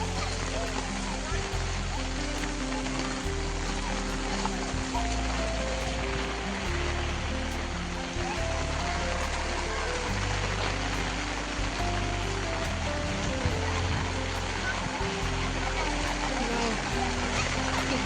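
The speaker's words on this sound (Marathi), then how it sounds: "असं जे धरणातून जे पाणी येते ते किती सुंदर असं आणि शुद्ध पाणी असं तुम्हाला दिसतंय" Water from a small dam rushing steadily outdoors in monsoon rain, a continuous loud broadband roar with a person talking over it.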